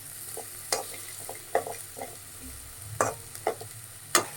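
Hyacinth beans frying with garlic and green chilies, a soft continuous sizzle punctuated by scattered spoon knocks and scrapes against the pan, close and moderately quiet, no voices.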